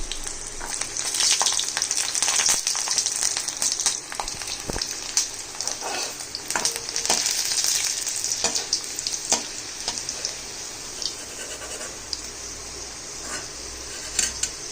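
Garlic cloves frying in hot oil, a dense crackling sizzle with scattered pops and spatters, loud and close, easing slightly toward the end.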